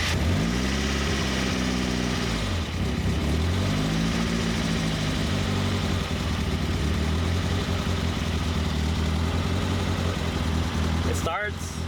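Turbocharged Mazda Miata engine cranking and firing on its first start after the ignition timing was set, then settling into a loud, steady, slightly high idle that runs close-up for the whole stretch.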